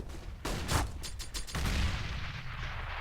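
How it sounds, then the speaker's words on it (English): Two grenades exploding in Counter-Strike: Global Offensive on the Dust 2 map, a pair of quick booming bursts close together followed by lingering rumble and faint background game noise. "Double grenade"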